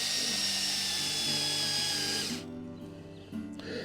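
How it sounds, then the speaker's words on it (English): Battery-powered drill driving a ground anchor into gravel, a loud steady whine that cuts off after about two seconds, followed by quieter grinding and rattling. "And I'm killing the battery on my drill here."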